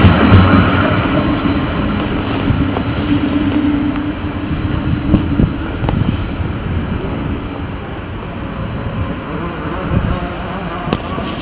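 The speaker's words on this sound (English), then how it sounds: "It's just leaving Beddington Lane tram stop." A heavy Croydon tram rumbles and grinds as it pulls away from Beddington Lane tram stop in an industrial area, with low rolling noise, occasional clanks and squeals, loud and close throughout.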